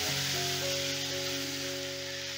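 Ginger paste hits hot tempering oil in a pan for dal, setting off a short, steady sizzling hiss that stays even and moderately quiet, with a faint tonal hum beneath it.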